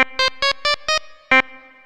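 Six short, gritty synth-like stabs from a Polyend Tracker sampler in a quick rhythm, distorted by overdrive and buzzing, the last one trailing off into a reverberant tail.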